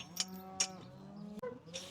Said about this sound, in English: Cows come in down the lane here